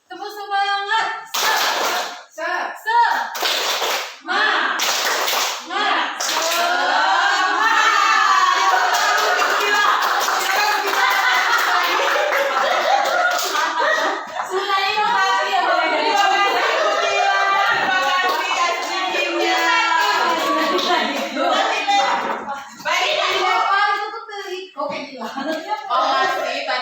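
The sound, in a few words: group doing a rhythmic spirit clap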